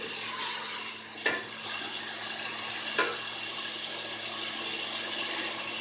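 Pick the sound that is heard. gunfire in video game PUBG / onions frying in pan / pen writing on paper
onions frying in pan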